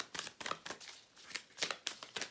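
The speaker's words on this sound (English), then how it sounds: "So I'm just going to kind of shuffle and just connect for you." Oracle deck from the Mystical Shaman Oracle being shuffled by hand, a quick run of soft papery riffles and slaps in repeated bursts, close and fairly quiet with no talk over it.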